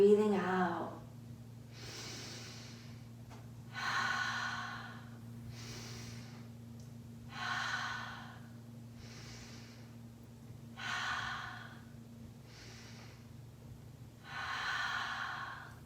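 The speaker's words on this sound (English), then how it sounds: "So now we're breathing in and breathing out." Slow, deep breaths in and out during a seated chair yoga session, each breath a soft airy rush recurring about every two seconds over a steady low background hum, with no talking.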